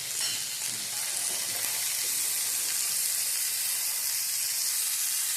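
Peanuts, curry leaves and fresh coriander roasting in a hot pan for a bottle-gourd-peel chutney give off a steady, dense sizzle that holds evenly from start to finish, close and alone with no voices.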